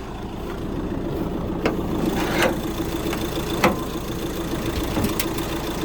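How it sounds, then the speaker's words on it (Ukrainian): A Volkswagen Crafter van's diesel engine idles in a steady, close, low rumble after a clean start, with a few faint clicks over the even drone and no talk. "Двигун завівся чисто."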